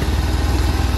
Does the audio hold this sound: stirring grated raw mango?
no